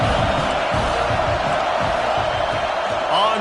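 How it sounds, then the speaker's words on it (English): A home crowd roaring steadily at a college football game between Notre Dame and Washington, a loud continuous wash of cheering that stays level throughout, with a voice talking over it. "how nice is it to have the home crowd going absolutely bananas?"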